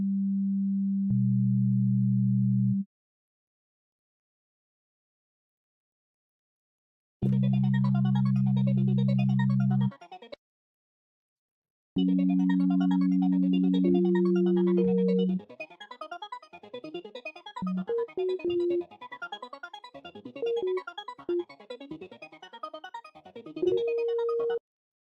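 A Meld synthesizer in Ableton plays a clean, sine-like arpeggio: held low tones at first, then stepping pitched notes after short gaps, with a sparkling high layer over the later pattern.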